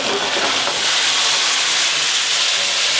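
A hot pan sizzles loudly and steadily as white wine deglazes mushrooms, garlic and onion, a dense continuous hiss with no voices.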